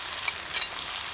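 Onion paste fries in hot oil, a brief close bright sizzle with a couple of small crackles, steady and uninterrupted with no voices.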